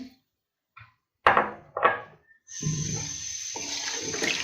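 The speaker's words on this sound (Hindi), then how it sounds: "अब हम इसमें डालेंगे थोड़ा सा पानी" Water poured from a vessel into a pan of chicken karahi with fried ginger and garlic, a steady close splashing pour running for the last couple of seconds after a few brief clatters.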